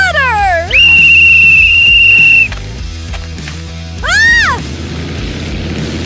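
Shrill whistle blown to start a pretend Harry Potter broom ride: a sliding then sustained piercing blast, followed by a shorter warbling whistle, loud and close over background music.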